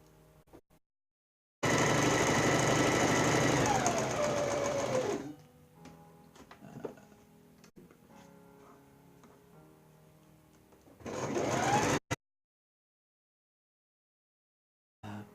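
An electric sewing machine stitches fabric that frays easily, with a loud continuous run of about three seconds, a quieter stretch of ticking and handling, then another short burst of stitching.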